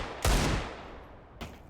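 Loud gunshots in a Valorant-style competitive esports match: a heavy booming shot with a long decaying tail, then a second sharper report about a second later.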